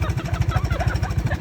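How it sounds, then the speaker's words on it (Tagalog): A repossessed motorcycle's engine runs with a rough, rapid, regular knocking pulse, loud and close, with faint voices in the background. "Katok ang makina."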